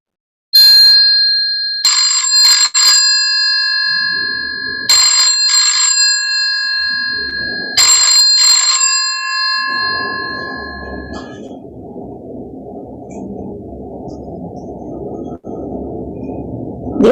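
An old telephone bell ringing in three loud, bright metallic bursts, each a rapid trill separated by short pauses, followed by a softer low whooshing hum.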